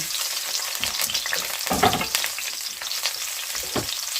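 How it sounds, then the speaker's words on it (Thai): Garlic sizzles and crackles steadily frying in oil in a pan, with a few sharper pops and stirring scrapes, close and continuous with no talking. "เจียวกระเทียมให้หอมนะคะ"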